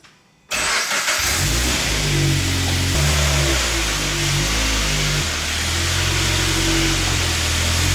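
A turbocharged Subaru BRZ's engine fires up after a brief silence and then runs at a loud, steady mid-pitched drone as the car is driven in at close range, with slight shifts in revs.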